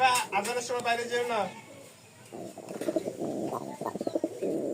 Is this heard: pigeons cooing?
yes